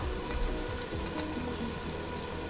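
Oil sizzling in a pan while onions are fried for chicken dum biryani. A steady, close, crackling hiss runs throughout with no talking.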